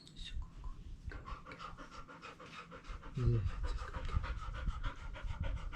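A Labrador going into labor pants rapidly and steadily, close and loud, while a person speaks softly to her.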